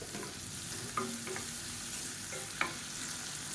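Onions and green chillies sautéing in a pan with salt, a soft, steady sizzle heard close up, with a few light clicks of a spoon against the pan and no voices.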